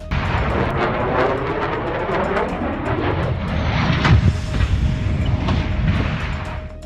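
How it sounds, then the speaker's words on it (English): A Pakistan Air Force F-16 fighter jet's roaring engine sweeps overhead near Islamabad, followed by a heavy rumbling crash impact and crackling, booming noise. "A video of a PAF F-16 fighter jet crash near Islamabad's Shekhar Parian."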